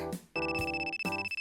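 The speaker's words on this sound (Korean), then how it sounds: "전화 왔어요?" An incoming call triggers a phone ringtone: a bright, repeating electronic melody with steady pulsing tones, loud and clear, with no talking over it.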